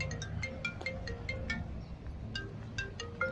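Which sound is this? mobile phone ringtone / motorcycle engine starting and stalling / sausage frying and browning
mobile phone ringtone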